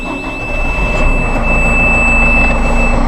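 A Massey Ferguson 5700 tractor engine, heard from inside its cab, runs with a steady low rumble and a constant high whine, holding an even idle throughout with no voices.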